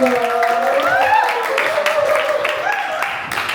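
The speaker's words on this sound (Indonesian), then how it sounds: "Tepuk tangan Mas" Applause from a seated audience at a sports federation ceremony in Indonesia, clapping heard under a loud amplified voice that carries over it for most of the stretch.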